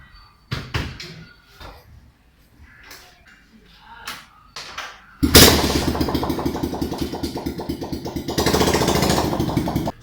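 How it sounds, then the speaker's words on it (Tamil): A motorcycle engine starts up and runs loud and steady close by, its rough pulsing exhaust note continuing to the end, after a few knocking sounds at the beginning. "எல்லா பைக்கோட சவுண்டுமே பார்த்தா இப்படி தான் இருக்கும்"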